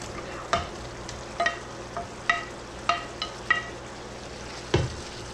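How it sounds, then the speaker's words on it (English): Shallow-fried tindli stirred into boiling masala gravy in a pan: a steady sizzling bubble under about eight soft spoon scrapes and knocks at uneven intervals, close up with no talk. "Give a quick mix."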